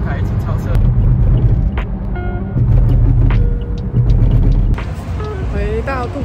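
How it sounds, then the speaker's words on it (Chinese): Cars speeding past and overtaking on a Dubai highway, a steady loud road rumble with swelling pass-bys, heard from inside a moving vehicle under continuous talk. "看又来一波，太棒了，快到两台一起超车"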